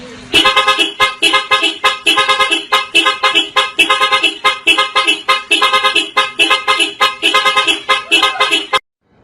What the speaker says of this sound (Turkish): Direkt kornaya basıyoruz. Çalıyorum.